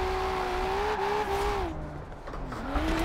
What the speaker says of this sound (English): R32 drift build, full wide body